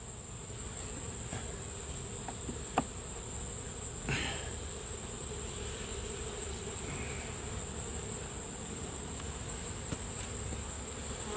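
A steady, dense buzz of many honeybees at a nucleus hive hums continuously at low volume, with a few faint clicks and taps, and nobody speaking.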